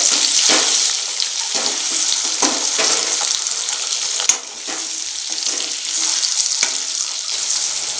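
Eggs fry in a hot pan with a loud, continuous sizzle, broken by a few scraping strokes of a spatula and one sharp knock near the middle.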